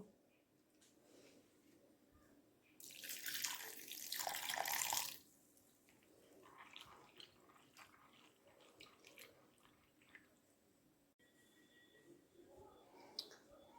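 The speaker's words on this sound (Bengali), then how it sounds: "এবার কাজু কিশমিশটা একটু জলে ধুয়ে নেব" Cashews and raisins are rinsed in water, a brief burst of running and swishing water, then softer splashing and stirring in a quiet kitchen.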